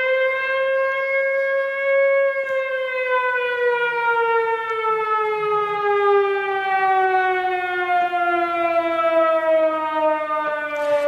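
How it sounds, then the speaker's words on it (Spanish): A loud civil-defense siren wails continuously, its rich tone slowly sliding downward in pitch, heard alone with no talking. "Poneme la sirena, José, si la tenés a mano."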